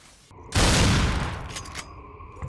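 Gunfire in the 2006 first-person shooter video game Black, a sudden loud burst of shots and debris that rolls into a long decaying roar and rumble.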